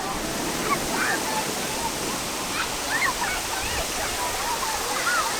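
Geyser runoff water rushing down a trench in a travertine mound, a loud steady broadband roar of flowing water with no pauses.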